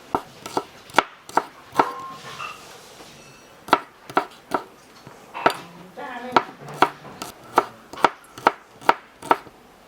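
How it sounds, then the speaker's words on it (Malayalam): A knife chops small onions on a cutting board for a Kerala fish curry, giving crisp, evenly spaced strikes in quick bursts separated by short pauses, close and clear. "ഒരു 30 അല്ലി ഉള്ളിയാണ് നമ്മൾ അരിയാൻ പോണത്."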